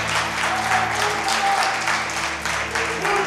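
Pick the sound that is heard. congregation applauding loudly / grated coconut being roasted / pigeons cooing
congregation applauding loudly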